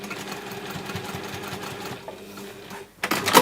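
A sewing machine runs steadily, stitching through several thick layers of fabric for a hexagon flap bag, with a brief pause near the end before the motor starts up again.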